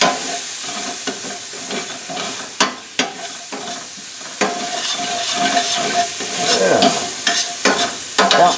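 Brandy set alight in a pan with chicken for French onion chicken, a steady hiss and sizzle with scattered crackles and a few sharp clinks of utensils throughout, close and fairly loud.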